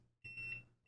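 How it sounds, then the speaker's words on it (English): A 2NICE WT10 robot vacuum cleaner gives two short electronic beeps, the first longer and the second cut short, thin and tonal in an otherwise quiet room. "Oh, it's still beeping."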